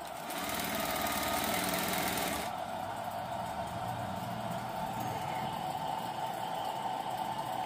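A sewing machine runs continuously while stitching umbrella fabric along the body seam, a steady mechanical whir with a brighter, louder stretch at first that settles to an even hum, no voices.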